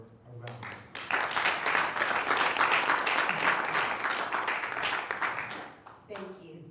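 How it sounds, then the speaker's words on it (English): A session audience breaks into sustained applause for a grief-camp founder, dense clapping building quickly and holding steady for several seconds before tapering off, with a brief voice at the end. "So let's give her a round of applause."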